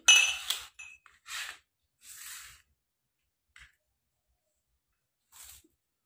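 A few separate light glassy clinks and knocks, like a glass being handled and set down, spaced out with quiet gaps between them.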